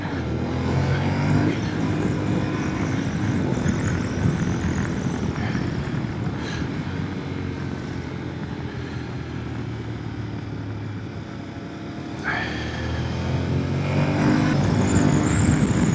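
A Yamaha Tenere 700 (2025) twin-cylinder motorcycle engine drones steadily while riding, with continuous wind rush and road noise and a swell in revs near the end.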